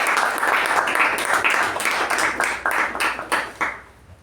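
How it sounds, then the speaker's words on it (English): A round of applause at a Toastmasters club meeting for a speaker and evaluator, a dense burst of clapping from a modest group that gradually thins out and fades toward the end. "can we give a tremendous round of applause for the evaluator and our speaker"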